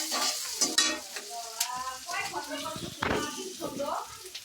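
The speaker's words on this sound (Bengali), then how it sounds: "এই পেঁয়াজ কুচিটা হলো ভাজা ভাজা করে নিতেছি একটু" Chopped onions and green chilies fry in a pan for a village-style hilsa curry, with a soft continuous sizzle and the occasional stir. Someone talks over the cooking almost the whole time.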